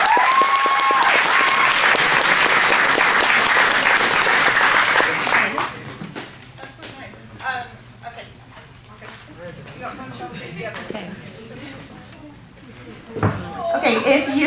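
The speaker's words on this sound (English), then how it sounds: "give everyone a big round of applause" A debate audience gives everyone a big round of applause, loud sustained clapping that fades after about five seconds into quieter room noise, scattered knocks and murmuring.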